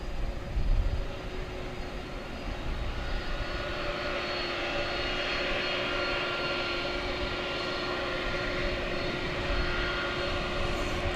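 Jet airliner engines roar at DFW Airport, a loud, steady drone with a sustained whine that holds evenly throughout, heard outdoors from nearby with no one talking.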